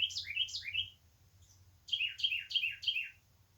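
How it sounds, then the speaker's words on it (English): Birds outside a house give quick descending chirps, a burst of three, a short pause, then four more in steady rhythm, fairly clear over a low background hum. "Apparently birds are trying to get into my house"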